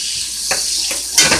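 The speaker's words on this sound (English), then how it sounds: "Something sauteing there." Cabbage sautéing in a pan gives a loud, steady, close hiss with a couple of brief scraping stirs over a short stretch, and no voices over it.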